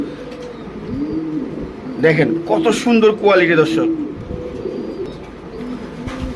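Red-eyed male and female pigeons of a Pakistani bloodline coo steadily in the background, with low rolling calls repeating throughout, while someone speaks over them in the middle.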